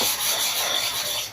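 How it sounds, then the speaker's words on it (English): An upper clipper blade is rubbed back and forth on a sharpening stone, a close, steady gritty scraping that continues without pause. "We are sharpening the upper clipper blade first."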